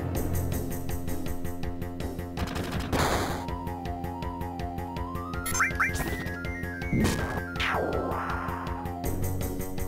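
Rapid bursts of arm-mounted gunfire from the Final Fantasy VII video game crackle loudly and densely, layered over steady game music with sharp crashing hits.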